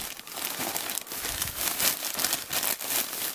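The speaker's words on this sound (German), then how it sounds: "Packen wir mal die Tüte aus." A plastic bag from an NBA Store Europe parcel is unpacked up close, giving steady crinkling and crumpling with brief tearing bursts throughout, no talk over it.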